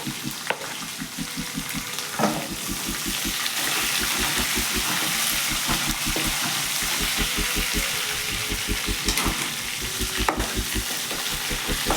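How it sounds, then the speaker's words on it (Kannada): Green chillies and curry leaves sizzle steadily in hot oil in a pan for a vegetable palya. A loud, continuous crackle runs throughout with rhythmic stirring scrapes, close by and with no voices. "ಸ್ವಲ್ಪ ಫ್ರೈ ಮಾಡ್ಕೋಬೇಕು."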